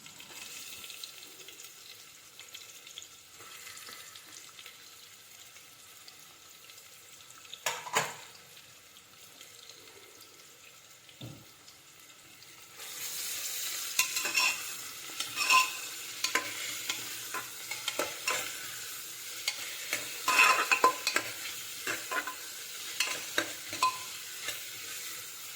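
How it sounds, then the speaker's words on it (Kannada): Onions frying in oil in a pressure cooker for chicken biryani, with a quiet start and then louder, steady sizzling punctuated by stirring scrapes and clinks. "ಆಮೇಲೆ ಸ್ವಲ್ಪ ಈರುಳ್ಳಿ ಹಾಕ್ಕೊಂಡು ಚೆನ್ನಾಗಿ ಫ್ರೈ ಮಾಡ್ಕೊಳ್ಳೋಣ"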